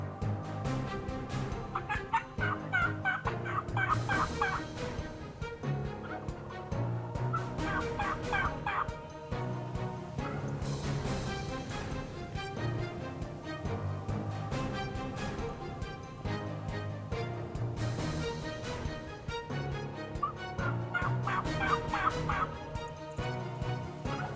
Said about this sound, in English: turkeys gobbled, and I knew we were in business